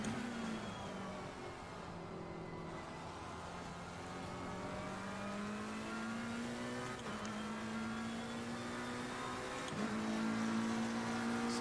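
A GT3 race car engine in the video game Assetto Corsa Competizione holds a steady, loud drone with rising pitch sweeps through the gears, changing at a couple of shifts, alone with no talking.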